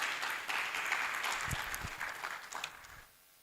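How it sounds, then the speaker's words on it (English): Applause at a workshop as a professor takes his seat, a few seconds of clapping that fades out near the end. "Let's clap for him as he takes his seat."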